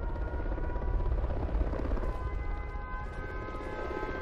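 The shock and awe killstreak strike in Call of Duty: Ghosts gives a steady, dense roar like heavy aircraft overhead with a wailing tonal layer, loud and unbroken throughout, with no talking.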